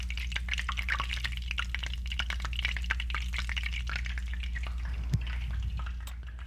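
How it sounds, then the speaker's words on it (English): Butter melting in a hot pan sizzles and spits steadily, a dense crackling fry with scattered sharp pops over a low hum, close and continuous with no talking. "You do want to be careful with the butter right now, not worrying about it browning, but it is spitting quite a bit"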